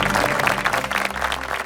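An audience at a forum claps after a keynote speech, with dense, steady applause filling the room at moderate loudness for a short burst.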